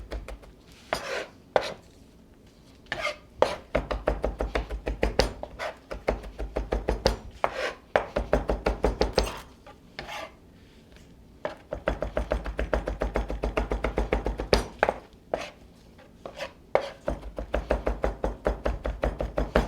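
A knife chops garlic finely on a cutting board in bursts of rapid, crisp taps. Short pauses break up the runs of chopping, and the sound is close and clear with no talking.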